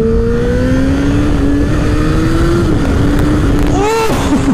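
An electric motorcycle drones steadily close by, its pitch climbing slowly before a sharp rev rises and drops near the end.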